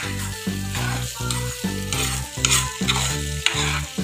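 Eggs frying in a pan with a steady, close sizzle and crackle, set against a loud rhythmic low tonal pattern that pulses at a regular beat throughout, with no talk.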